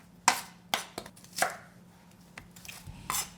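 A knife chops onion into small cubes on a board for a spicy octopus stir-fry, with sharp, close taps spaced irregularly, some louder than others, alone without talk.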